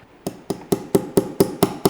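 A hammer strikes metal in a quick, steady rhythm, eight crisp blows about a quarter second apart, close and loud.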